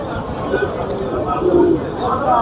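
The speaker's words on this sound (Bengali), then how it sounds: "এই সাইডে দেখেন একটা পেয়ার কিং কবুতর আছে আর এইখানেও বেশ কবুতর আছে দেখেন" Pigeons coo up close at a village pigeon market in Bangladesh, with soft repeated cooing and bird calls mixed with the murmur of people talking nearby.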